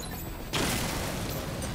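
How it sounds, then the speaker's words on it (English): An explosion in the video game Batman Arkham Knight bursts out suddenly and loudly, then rumbles on with a dense, crackling roar. "The explosion disabled the main cannon."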